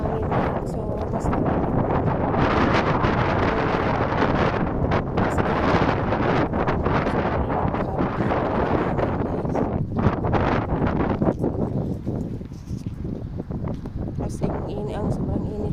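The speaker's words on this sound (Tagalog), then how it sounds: "Mahangin dito sa labas." Strong wind gusts roar and buffet the microphone outdoors on a sunny, hot sidewalk, loud and continuous throughout, while a voice talks over the blustery noise.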